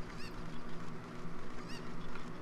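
A Cucco chicken in The Legend of Zelda: Ocarina of Time lets out two harsh, honking squawks, one early and one later, over a dense, continuous game background.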